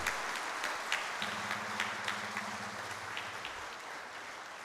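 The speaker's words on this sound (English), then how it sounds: "Let us give yourself a big round of applause." Applause from the audience at an oil company ceremony in Mangalore marking the first crude receipt, a steady clapping wash with a few sharper claps and a faint low hum running beneath.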